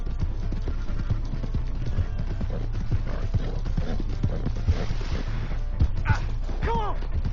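Horse hooves clip-clopping in Red Dead Redemption II, a steady run of close, uneven thuds with a brief whinny and some scuffling near the end, a voice murmuring faintly underneath.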